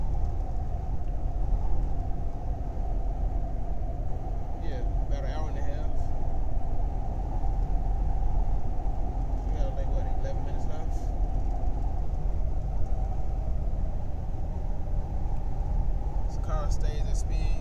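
Steady low engine and road rumble from a 2001 Mercedes-Benz S500 cruising at highway speed on a long drive out of Chicago toward Kankakee, constant and close inside the cabin, with a few faint clicks and ticks over the drone.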